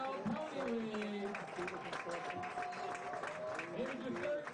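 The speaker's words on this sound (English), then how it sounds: "Big, nice round of applause." Crowd applause at a LaVille vs Winamac varsity football game as youth league players are introduced; steady clapping and cheering under a loudspeaker announcer talking over it.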